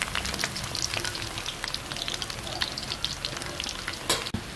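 Jaffna-style chana dal vadas fry in hot oil, a dense, crackling bubbling sizzle that fills the whole stretch evenly, with a sharper clink near the end.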